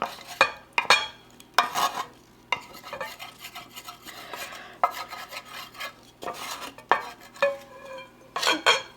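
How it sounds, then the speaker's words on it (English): Hot cornbread dressing mixture is dumped from a pan and crumbled into a bowl, with close scraping, clinking and stirring scrapes of utensil on dishware in irregular bursts and no speech. "I'm gonna try not to burn myself and dump it all into the bowl, or I'm going to crumble it up more."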